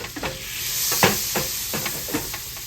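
Butter sizzling in a skillet as a trout fillet is laid in, a steady hot hiss with several short scraping and clinking stirs spaced through the moment.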